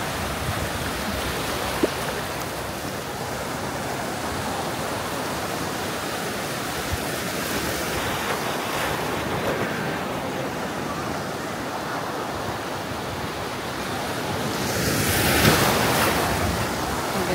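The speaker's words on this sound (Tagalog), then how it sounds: "Ang taas ng water. Oh, lakas din ng alon." Strong ocean waves crash and churn on White Beach in Boracay, a loud, continuous roar of surf mixed with wind buffeting the microphone, swelling near the end, with no voices.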